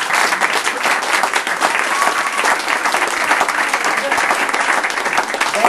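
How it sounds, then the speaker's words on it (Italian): A room full of people applauds during a presentation of Monon Behavior, sustained dense clapping at a steady, fairly loud level from start to finish. "Un applauso."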